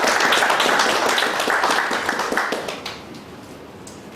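Audience at a chartered accountants' professional meeting in Bangalore clapping for a moderator and panelists, brisk close applause that tapers off quickly into a quiet room.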